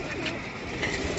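Hobby pigeons coo in soft low bursts nearby at a pigeon-keeping setup in Amritsar, a faint murmur of background noise running underneath.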